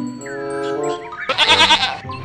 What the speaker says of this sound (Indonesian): Ternyata ini hewan kambing.